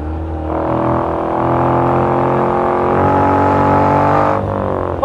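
Pembleton T24 light car driving on countryside roads, its engine giving a steady, loud droning hum that rises gently in pitch as it pulls, heard from inside the car with no talk.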